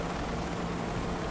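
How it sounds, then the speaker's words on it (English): Helicopter in the video game Rogue Trooper Redux flying overhead, a steady, dense rotor and engine roar filling the short moment without talk. "Where's the chopper?"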